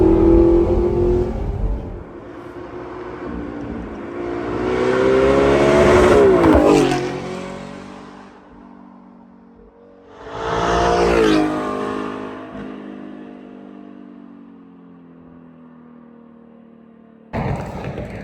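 Audi R8 V8 engine revving hard outdoors in a valley, a loud, rising roar that climbs in pitch twice with long swells, then drops back to a steadier idle-like drone between bursts, echoing with no talking over it.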